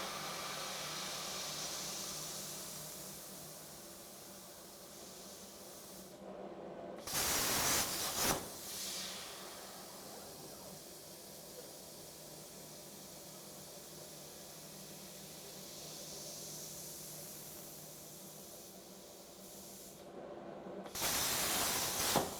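A CNC plasma table cutting metal gives a steady, close hiss that holds for long stretches. Twice it is broken by a brief louder burst and a sharp drop in the noise.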